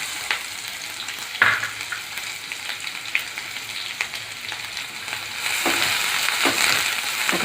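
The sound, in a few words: onions frying in hot oil with cumin and fenugreek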